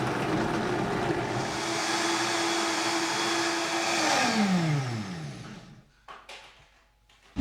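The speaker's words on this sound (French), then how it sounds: "on va mixer tout ça" A blender whirs loudly, mixing pistachio milk with rose water and a pinch of fleur de sel, then winds down as its pitch falls near the end, followed by a few soft clicks.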